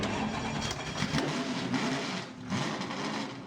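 A Lotus Elise GT1 engine starts up in Roblox Driving Empire, a mid-pitched engine catching and settling into a steady, revving drone at moderate loudness.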